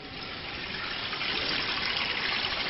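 Water steadily leaking into a basement makes a continuous, close, broadband rushing and trickling wash that holds an even level throughout, with no voices.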